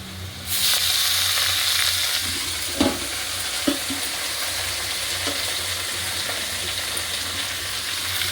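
Washed leafy greens hit a hot pan, and the oil erupts into a loud, continuous frying hiss, with a few soft knocks of stirring in the pan.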